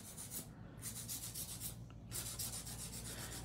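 A hand file rasps back and forth over acrylic nails in quick, quiet strokes, with a short pause between bursts of scraping, close and soft with no talking.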